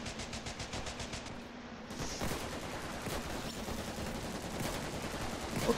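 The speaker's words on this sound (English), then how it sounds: "Oh, it's an automatic rifle." Rapid automatic rifle fire rattles steadily throughout, with a brief pause early on before bursts resume, all in a chaotic battle in the video game Ravenfield.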